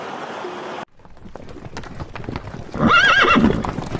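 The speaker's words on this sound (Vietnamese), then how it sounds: "Con ngựa." A horse gives a loud, close whinny with a wavering pitch near the end, preceded by a run of sharp hoof clip-clops on hard ground after a brief earlier noise.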